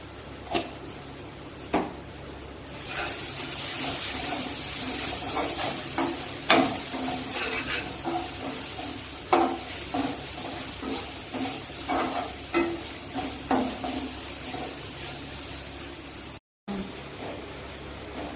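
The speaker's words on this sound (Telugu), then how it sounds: "ఇదమ్మా మసాలా మొత్తం బాగా వేగింది" Masala spices with turmeric fry in a pan for a fish curry, a steady close sizzle broken by repeated scraping stirs and clinks of a spoon throughout, with no talking.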